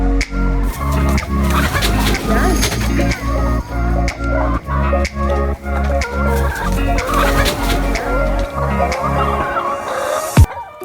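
Chickens on Lola's Healthy Farm, an organic farm, with repeated clucking and gobbling calls over a rhythmic low thumping, and a brief sharp sound near the end.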